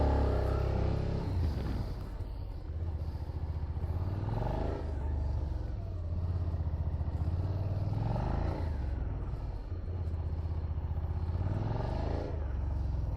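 A 2021 Suzuki SV 650 motorcycle running a gymkhana course, its engine rising and falling in repeated revving sweeps as it accelerates and slows through the turns, loud and close throughout.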